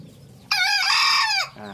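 A green jungle fowl hybrid rooster crows loudly and close by, one long strained call that rises and then trails off with an odd, wavering tone.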